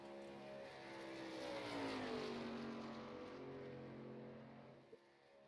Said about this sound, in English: Trying to get that truck up to speed off the corner.